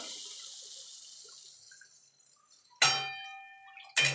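Water pours steadily into a pan of potatoes and spices for a vegetarian potato, eggplant and bori curry, a soft hiss that fades out, followed by two sharp ringing metallic clangs.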